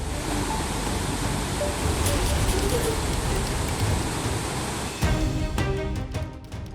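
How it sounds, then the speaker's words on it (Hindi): Heavy rain pours down in Panchkula, Haryana, a dense, steady hiss of falling water that fills the scene before shifting to a slightly different texture near the end. "पंचकुला में झमाझम बारिश हो रही है"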